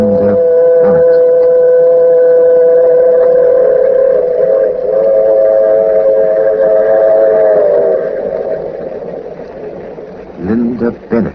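A sustained train horn or whistle sounds for several seconds, steady and loud, then fades as the rumble continues.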